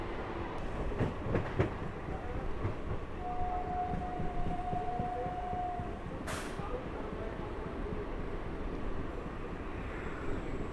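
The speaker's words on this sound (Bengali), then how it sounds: "একবার বাঁ দিক আর একবার ডান দিক, কার্ভে ঘুরতে ঘুরতে ট্রেন এগিয়ে চলেছে" A new passenger train runs along a curving track between Ranaghat and Amghata via Shantipur and Krishnanagar, heard from aboard as a continuous rumble with a sustained whistle-like tone partway through.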